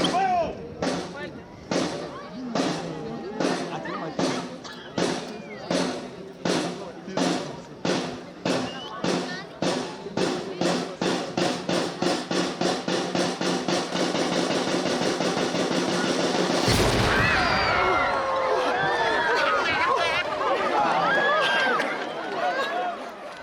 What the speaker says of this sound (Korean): 바다를 향해 쏘아준 대포를 보며 소리 높여 환호한다.